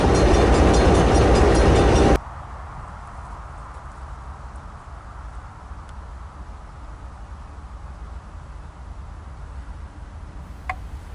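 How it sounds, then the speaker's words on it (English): Classic GE locomotives of the Minnesota Commercial Railroad rumble loudly nearby for about two seconds, then drop sharply to a low steady idle hum with faint clicks and a brief squeal near the end. "The locomotives will come to a brief stop to set the switch to hook up the cars going back south."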